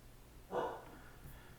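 A single short dog bark in the background of a quiet room, brief and moderately faint, followed by near silence.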